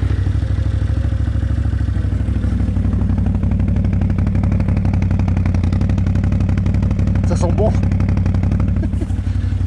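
A motorcycle engine starts up outdoors and settles into a steady, loud, close mechanical idle with a clattering pulse, running continuously throughout.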